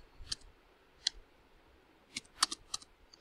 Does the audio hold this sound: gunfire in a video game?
no